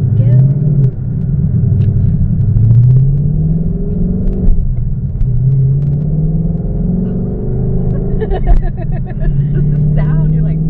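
Ford Mustang GT V8 engine heard from inside while driving, a deep loud rumble rising and falling as the throttle is worked, with people talking over it.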